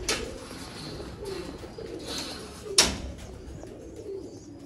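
A teddy pigeon held in the hand gives soft, close coos between light rustles, with one sharp tap or click partway through.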